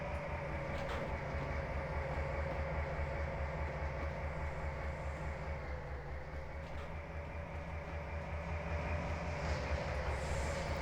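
A model train runs on a layout during an operating session, giving a steady, continuous rumble and rolling clatter at an even level throughout, with no voices.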